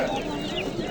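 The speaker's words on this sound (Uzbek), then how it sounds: "Mana shu xo'roz." A rooster at an outdoor poultry market clucks briefly, close and moderately loud, amid market background noise.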